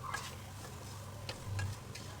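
Faint spoon stirring through sorghum-flour noodles in a pan, a few soft scrapes over a low steady hum, quiet and brief.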